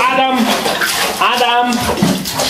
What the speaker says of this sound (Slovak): Ukážte, ak budete ťapať vodu.